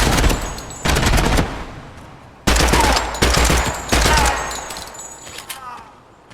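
Rifle fired from the hip in a weapons test in the video game Project Silverfish: loud, close bursts of rapid automatic fire, several separate strings of shots separated by short pauses, trailing off near the end.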